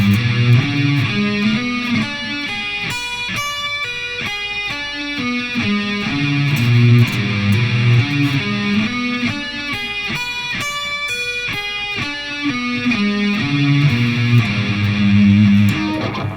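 Heavily distorted electric guitar plays rapid sweeping arpeggios, fast cascading notes rising and falling in a steady repeating pattern, loud and alone.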